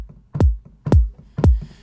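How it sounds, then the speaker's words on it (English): A layered house-music kick drum sample in Studio One hits three times at a steady even pace, each a punchy click that sweeps down into a deep, booming low thump, loud and isolated. "The kick in and of itself sounds like this"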